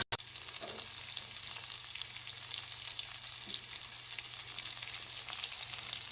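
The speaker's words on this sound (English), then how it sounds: "So at this time, I'm going to add in the Tolo beef." Tolo beef sizzling in a pan with marinade over medium heat, a steady close frying hiss that stays even throughout with no talking.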